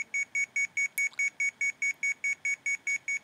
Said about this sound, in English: really annoying beeping until you actually change the keys over